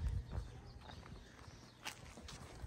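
A cow walks close by with slow, soft hoof steps and faint shuffling on the ground, quiet and unhurried, with no talking over it.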